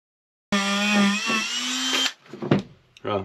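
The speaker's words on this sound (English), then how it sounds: "See if we can give this a little clean up using the Dremel." A Dremel rotary tool cleaning a trailer winch part whines at a high, steady pitch for about a second and a half, then stops, followed by a few close knocks and clatters.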